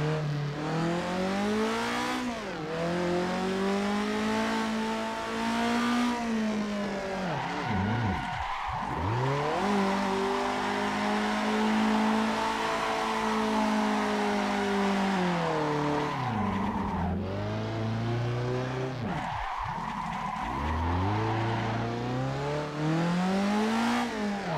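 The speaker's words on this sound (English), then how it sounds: "I don't know whether to call it a drift or a power slide" Tires squeal for long stretches as a car drifts and power-slides in Assetto Corsa, with the engine droning and revving beneath the screech and dipping sharply twice as the throttle lifts.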